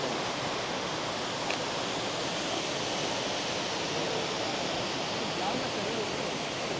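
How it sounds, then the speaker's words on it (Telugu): The Barachukki waterfall pours as a steady broadband roar, dense and unbroken throughout, heard from fairly near. "ఆ జలపాతం అన్ని నీళ్ళు క్రేజీ"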